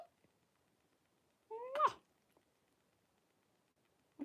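A pet cat gives a single short, rising meow, close and fairly clear against a very quiet indoor background.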